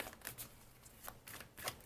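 Tarot cards being shuffled by hand for a reading: soft, faint clicking riffles and taps arriving in uneven clusters, close and quiet with no talking.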